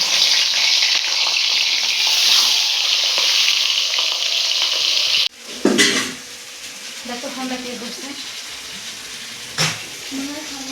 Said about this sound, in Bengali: তেলটা বেশ সুন্দর গরম হয়ে গেছে মাথাগুলো আমি ভেজে নিচ্ছি